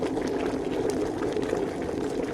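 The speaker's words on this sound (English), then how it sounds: "The pot is boiling violently." A pot of water boiling hard in the video game Shut In, with a steady, dense bubbling and churning that holds constant throughout, loud and close.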